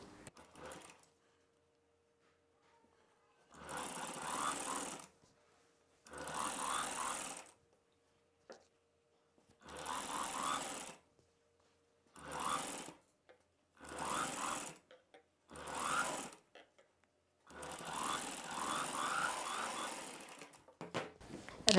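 A sewing machine stitches at the neck of an umbrella dress in short mechanical bursts, about seven runs of whirring separated by pauses, loud and close with no talk.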